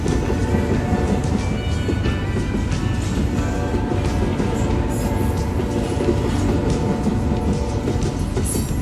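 A Union Pacific freight train rolls past steadily, its GE ES44 locomotives and cars making a continuous loud rumble with rail clatter for the whole stretch.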